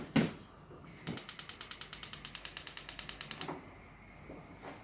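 A stove knob is turned to bring the heat back on, giving a close, rapid train of even mechanical clicks that lasts about two and a half seconds before stopping.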